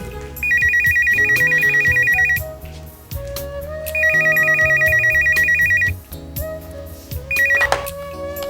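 A telephone rings in repeated bursts of rapid electronic trills, loud and close, over a music-like background with no speech.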